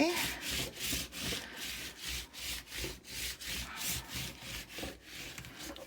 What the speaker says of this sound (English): I'm just using my bone folder to do that